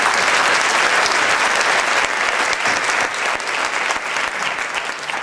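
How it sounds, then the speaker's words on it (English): A school auditorium audience applauds loudly with dense, sustained clapping, which tapers off slightly toward the end. "Give him another round of applause."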